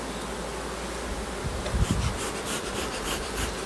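A large, very busy honeybee colony hums with a steady insect drone, a dense swarm sound that swells slightly partway through, close and fairly loud with no voices over it.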